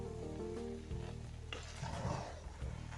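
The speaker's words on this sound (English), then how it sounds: "We stir all of them together." Turkey and vegetables are stirred together in a pot of Nigerian spinach and okra soup, making a low, even sizzle with a few soft spoon scrapes and clunks partway through. No voices are heard.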